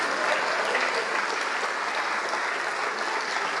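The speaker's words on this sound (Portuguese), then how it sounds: "Vamos aplaudir mais, está chegando mais." A church congregation applauds during a worship service, with steady, dense clapping that stays loud and even from start to finish and no talking over it.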